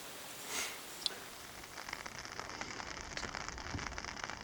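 Light rain on a tent during a solo summer camping trip in the Boundary Waters wilderness. A faint, even patter of drops holds throughout, with one soft sniff-like puff and a small tick near the start.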